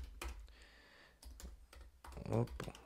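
Code typed on a computer keyboard in Xcode 11 while building a SwiftUI slider, a few bursts of close key clicks with quiet gaps between them, ending in a louder cluster of keystrokes.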